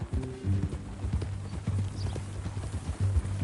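Hooves clip-clop in an uneven rhythm as a horse walks in Red Dead Redemption 2, close and fairly clear, with low snorting and a faint whinny-like rumble mixed in.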